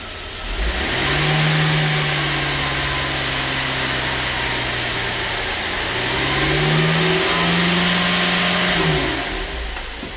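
A GMC Acadia engine with a P0017 code and an erratic crankshaft sensor idles, then revs up twice under throttle. Each rev is a loud, close rise in pitch that settles back down.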